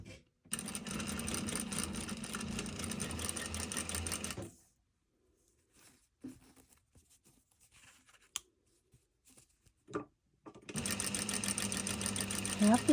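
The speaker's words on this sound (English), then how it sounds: "I'm all ready to sew." A sewing machine stitches a seam with a half-inch seam allowance across an intersecting point, running in a steady rapid whir, pausing for a few seconds of quiet with small handling clicks, then starting up again.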